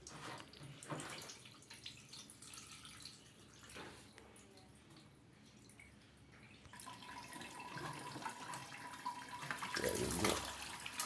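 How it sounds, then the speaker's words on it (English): Water drains by hand from an LG washing machine with a not-draining OE error, a continuous soft trickle and splash that runs throughout and swells louder near the end. "So we're trying to remove water manually."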